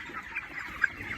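Broiler chickens feeding on a farm in the afternoon give soft, scattered clucks at moderate distance, with one brief sharper call standing out over low background noise.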